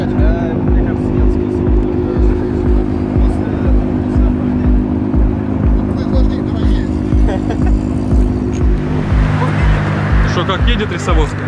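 A car races past during a drag race, its engine a loud continuous roar that builds and fades as it passes near, with people talking and crowd babble under it.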